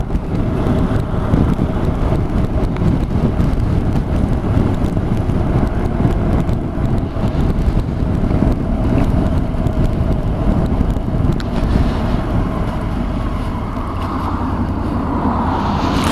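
A Honda NC750X DCT motorcycle rides along and turns around, its engine drone buried under heavy, constant wind rush on the microphone throughout.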